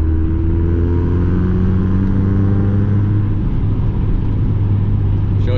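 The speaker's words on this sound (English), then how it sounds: "So this will be a sort of pure audio of the car, obviously with the new exhaust and everything on" A Mazda MX5 fitted with a new exhaust drives along the road, its engine making a steady loud close rumble with a gradually rising drone as it pulls through the gear, and no voices over it.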